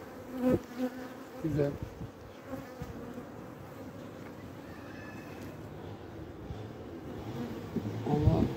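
Honeybees hum and buzz around an open hive during a February inspection, a steady close drone with a few louder bursts as frames are handled; someone speaks briefly.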